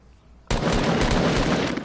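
Gunfire in a shooter video game starts abruptly after a brief quiet moment, then becomes a loud, close, continuous burst of rapid shots that carries on to the end.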